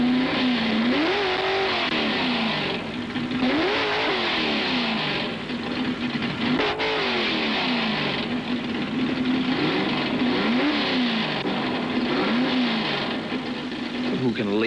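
A 1960s Ford drag racing car revs repeatedly, its engine note climbing and falling in a series of surging pulls over a steady idle, moderately loud with crowd or ambient noise around it.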